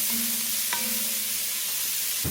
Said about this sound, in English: we're going to cook these until they're nice and tender and translucent. And don't forget to scrape the bottom of your bowl as it cooks